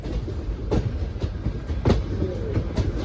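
The Simhadri Express, running from Guntur Junction toward Visakhapatnam, rolls along the tracks with a loud steady rumble and rhythmic clickety-clack of wheels over rail joints, heard from on board without talk.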